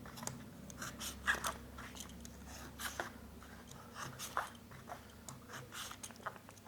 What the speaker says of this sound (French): Ensuite, le cutter, couper le milieu ici.